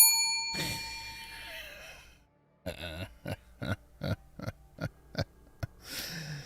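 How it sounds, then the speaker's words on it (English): A bell rings with a ringing tone at first, then a series of about nine quick, evenly spaced strikes or dings, fairly close. "Hit the bell a bunch of times."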